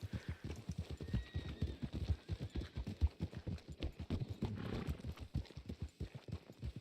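Horse hooves clip-clopping steadily in Red Dead Redemption 2 as the horse is ridden, a continuous even rhythm of fairly soft, near footfalls heard alone without talk.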